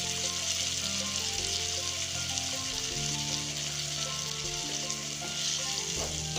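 Chopped green chillies and tomatoes added to fried onion in a pan, a continuous bright sizzle and hiss with faint stirring scrapes, steady and close, no talking.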